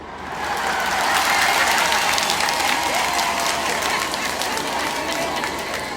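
A large crowd at a Tanzanian rally cheers, claps and ululates in a dense, continuous roar, close and loud and steady for several seconds.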